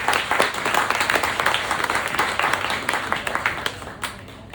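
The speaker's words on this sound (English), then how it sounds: "Let's have another round of applause for Lenore." Steady applause from an audience at a poetry reading, dense clapping that holds evenly for several seconds before tapering off near the end.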